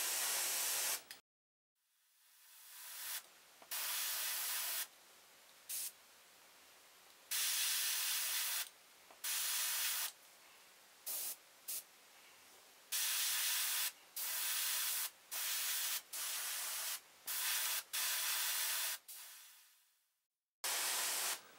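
Repeated bursts of fine hissing airbrush spray, painting fur, short and long, starting and stopping in an irregular rhythm, close by with silence between bursts.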